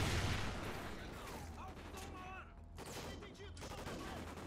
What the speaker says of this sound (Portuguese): olha essa porra de granada de novo